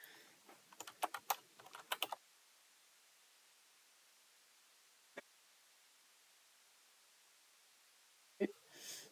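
Keys clack on a computer keyboard during a quick burst of typing to rename a material in Revit, followed by two lone keystrokes in a quiet room.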